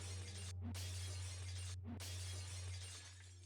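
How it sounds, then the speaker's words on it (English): Glass windows shattering in a Higurashi visual novel sound effect: two loud crashes about a second apart, each with a brief bright burst of breaking glass, over a steady low hum. "Then she broke the glass windows one after another."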